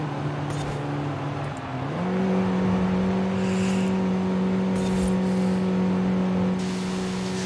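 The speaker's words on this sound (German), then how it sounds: "der Motor zieht immer noch gut durch hier auf dem Berg" A 1974 Honda Civic RS engine pulls uphill with a steady, close droning note that steps up in pitch after about two seconds, then holds firm under load. No one speaks.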